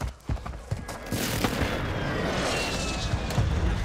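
A close air support strike opens fire in Warzone 2 on Ashika Island, with a few sharp cracks giving way to a dense, sustained rumble of rapid impacts and booms.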